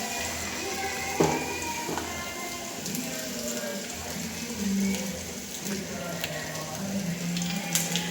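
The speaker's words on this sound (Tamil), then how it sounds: "பெருங்காயம் தாளித்து தான் போடணும்" Spices, including asafoetida, sizzle and crackle steadily in hot oil for rasam, a soft continuous frying hiss with a few sharper pops.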